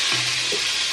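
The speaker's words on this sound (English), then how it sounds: "a tablespoon of this chopped garlic and allow this to cook for like 30 seconds" A tablespoon of chopped garlic cooking in a pot for bean and chickpea soup, giving a continuous even sizzle, close and steady, with no voices.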